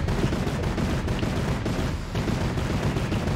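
Dense, continuous gunfire rattles through a Fortnite firefight, a steady loud barrage of overlapping shots with no gaps and no voices.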